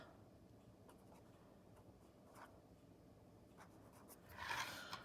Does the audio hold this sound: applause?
no